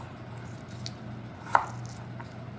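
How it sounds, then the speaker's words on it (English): One soft knife chop cuts off the dry top of an ingredient on a cutting board, a single faint thud against a quiet kitchen background hum. "it looks like it's a bit dry at the top, so just chop it off"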